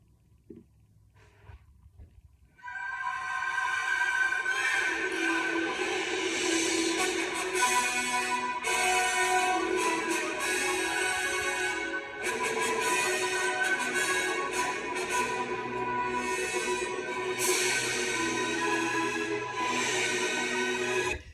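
Full orchestral main title music from the film Kings Row bursts in after a brief quiet opening, loud, rich and sustained throughout.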